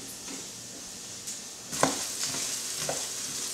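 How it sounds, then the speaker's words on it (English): Risotto rice toasting with onions in a pan for a sweet potato, goat cheese and sage risotto: a steady soft sizzle with a few scraping stirs, moderately close and alone. "you're toasting the risotto with the onions, probably for about another 2 to 3 minutes"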